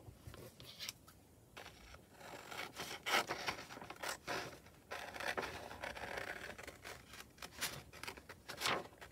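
Scissors snip and rustle through printed copy paper while cutting out a paper flower for a junk journal, a close, irregular series of crisp cuts and paper handling with no talk.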